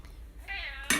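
A cat meows briefly in a kitchen during cooking, one short mid-pitched call rising into a sharper cry at the end, close and clear, with faint background noise.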